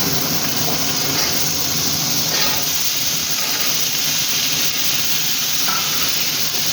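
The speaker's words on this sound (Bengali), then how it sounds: "এখন একটু ভাজা হবে।" Sliced squash fries loudly in a hot pan with soybean and potato, a constant dense sizzle and hiss that fills the whole stretch without a break.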